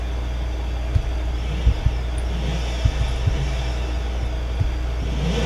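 A car engine revving at the drag strip start in the BeamNG.drive game, a steady low drone with a few short thumps and blips over a constant hum, with no talking.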